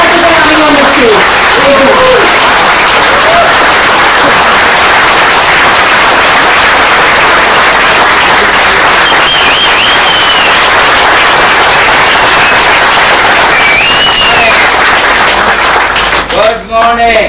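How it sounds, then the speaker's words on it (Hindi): A crowd at a motivational training event in Maharashtra claps loudly and continuously as a guest walks on stage, a dense roaring applause with whoops and a voice over a microphone near the end. "तालियों की गूंज होनी चाहिए जब first crown ambassador coming on the stage."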